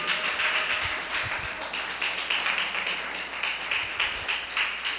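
Congregation in a Christian church service clapping together, a steady dense patter of many hands with some rhythmic accents, sustained and fairly loud throughout.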